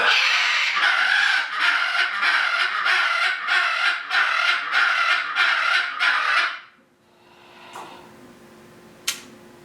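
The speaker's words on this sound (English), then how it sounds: "the noisemakers of the world really are the macaws" Macaws let out a run of loud, harsh squawks, about eight in a steady rhythm over six seconds, then stop. A quieter stretch follows with faint bird sounds and a brief sharp click.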